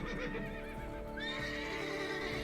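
A horse neighs loudly in The Witcher 3, a drawn-out whinny rising and falling over about two seconds, close and clear with no talk over it.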